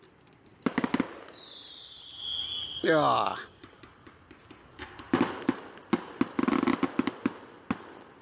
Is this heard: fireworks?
yes